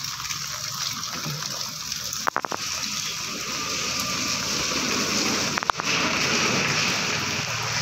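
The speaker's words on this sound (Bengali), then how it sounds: "এখন সকালবেলা দেখো এই বৃষ্টি শুরু হয়েছে, প্রচণ্ড হারে বৃষ্টি হচ্ছে আমাদের এখানে" Heavy morning rain pours down in a dense, steady hiss and gush that lasts the whole clip, with a couple of brief clicks nearby and no talking.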